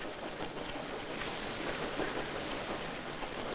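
A train runs steadily with a continuous broadband rumble and rattle, moderately loud and close, holding even throughout with no voices.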